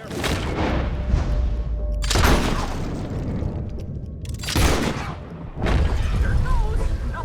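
Rifles of a firing squad fire together in Red Dead Redemption 2, three loud booming volleys spaced a couple of seconds apart, each trailing off in echo over background game ambience.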